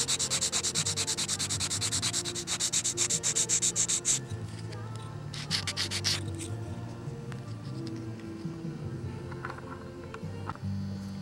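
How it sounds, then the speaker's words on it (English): A small piece of a balsa model aircraft cockpit being hand-sanded, with rapid close rhythmic rubbing strokes in two bursts followed by quieter handling sounds. "I thought I'd cut off and sand this extra little piece."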